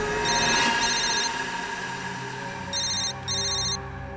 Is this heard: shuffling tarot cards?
no